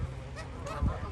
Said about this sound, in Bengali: এখানে রাজহাঁস দেখা যাচ্ছে এই যে